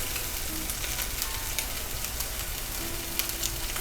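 A rack of lamb sizzles steadily in a hot pan, a dense, even crackle of frying fat that stays close and constant throughout, with no voices.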